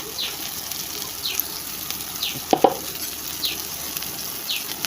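Potato paste with chili paste and turmeric is stirred in a pan, giving a soft, wet sizzle. Several scraping strokes of the spoon recur at regular intervals, with a brief louder clatter midway.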